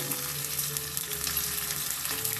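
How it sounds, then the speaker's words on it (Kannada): White sesame seeds spluttering in hot oil, a dense continuous crackle and hiss with tiny popping bursts, close and fairly loud without any voices. "ಬಟ್ ಎಣ್ಣೆಯಲ್ಲಿ ಹಾಕಿದ ತಕ್ಷಣ ಸಿಡಿಯುತ್ತೆ"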